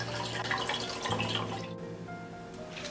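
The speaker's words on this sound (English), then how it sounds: "Next is to fill up the carboy with clean, pure water." Clean water runs and splashes into a carboy for home beer brewing, a steady close pouring rush that thins out partway through, leaving faint dripping.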